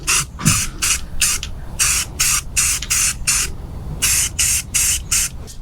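An aerosol can sprays paint onto parts for a 1/10 scale rotator model build, giving a dozen or so short, loud hissing bursts in a fairly even rhythm, with a brief pause midway.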